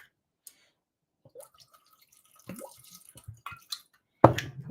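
Cream sherry poured into Christmas cake mixture gives a few soft, sparse drips and trickles, then a sudden louder wet splash near the end, heard up close in a quiet kitchen.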